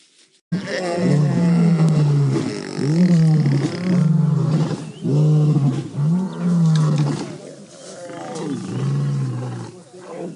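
Several lions roar in a heavy, repeated series of deep, groaning calls, loud and close, after a brief scuffle between males of the Nkuhuma pride on a safari drive; the bouts rise and fall across the whole stretch.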